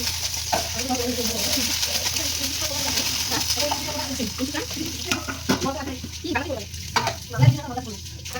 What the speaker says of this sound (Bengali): ঢাকনাটা খুলে ভালো করে নেড়ে নিতে হবে।